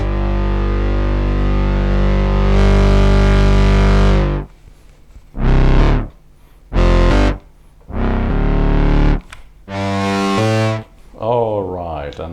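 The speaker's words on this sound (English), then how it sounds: "here's the filter drive, or filter distortion" A gritty, distorted Novation Peak synthesizer tone using filter drive plays a long sustained note, then several short buzzing bursts with gaps between, ending in a wobbling chorus-effect tone.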